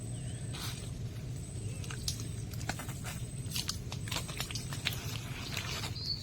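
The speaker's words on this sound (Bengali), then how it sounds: "তার উপরে ধীরে ধীরে বৃষ্টি পড়ছে" Light rain falling in the dense, dark Sundarban mangrove forest, a soft steady patter of scattered drops with faint ticks and rustles over a low background hum, no talking.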